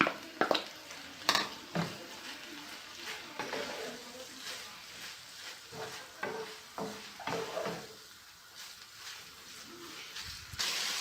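Chopped olives being stirred into a fish pastilla filling in a pan, with repeated soft scraping and clacking strokes at close range alongside a faint sizzle, under light background noise.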